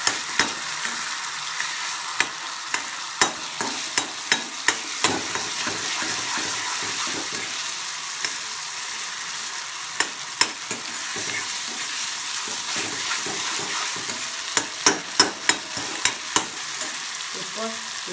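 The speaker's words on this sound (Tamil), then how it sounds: "ஒரு வதக்கு வதக்குங்க" Mango-like pieces being sautéed in a pan, with soft sizzling frying under repeated clinks and scrapes of a stirring spoon, closer and more rapid toward the end.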